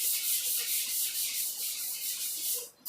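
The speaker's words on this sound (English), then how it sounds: "Sanding sucks." Hand sanding of an epoxy primer guide coat on a car body, a steady rhythmic rasp of sandpaper scrubbing back and forth, close and continuous with no talk.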